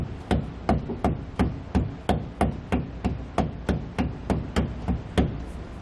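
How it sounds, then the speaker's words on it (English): Hammer tapping a SumoSprings Solo bracket forward on a 2013 Mercedes-Benz Sprinter, about fourteen sharp metallic strikes in a steady, even rhythm, close and clear with no talk. "You may need to take a hammer to help tap it forward all the way."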